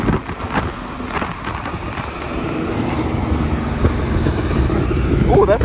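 A sports car engine rumbles with a low, burbling exhaust note during a supercar run, building gradually in loudness, with people talking nearby.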